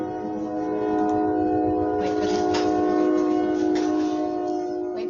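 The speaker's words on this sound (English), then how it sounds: "Wait for the train." A train passes nearby, its sustained, loud, horn-like tones ringing steadily over a rumbling background for several seconds without pause.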